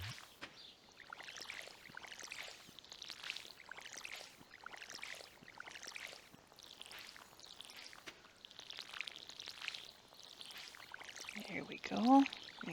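Watering can sprinkling parsnip crops in the Stardew Valley video game, a series of soft, faint pouring splashes repeating in quick bursts, with a brief sharper chime near the end.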